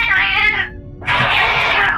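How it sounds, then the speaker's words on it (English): Two loud yowling cat cries sound close up in the video game Foundry, each drawn out and wavering, with a short gap between them. "Oh boy, cat fight."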